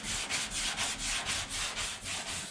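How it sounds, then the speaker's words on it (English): By hand, someone sands the box of a 1952 Ford F1 truck during prep for paint, producing steady, rhythmic back-and-forth scraping strokes, about four per second, close and continuous with no talking. "Doing some hand sanding."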